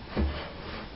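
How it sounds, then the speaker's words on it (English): A wooden CNC router table slid across a shop surface, giving one short, close scraping rub that swells and then trails off into a quiet hiss. "Now we'll slide the table over"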